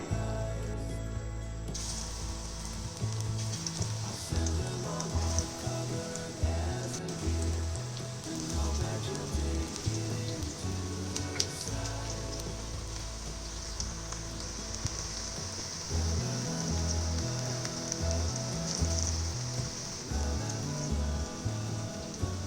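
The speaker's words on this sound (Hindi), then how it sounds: "घी हमारा गर्म हो चुका है। अब हम इसमें पकौड़े डालते हैं।" Potato and onion pakoras frying in hot ghee, giving a steady, rain-like crackling hiss with fine bubbling that runs unbroken throughout.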